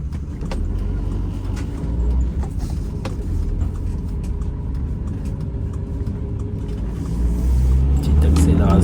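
A van driving and accelerating gives a continuous low engine rumble with road noise and faint creaks, swelling noticeably louder near the end as the throttle opens.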